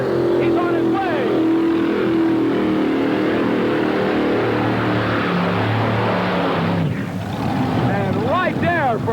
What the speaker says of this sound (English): Here he comes with those 5 Arius engines.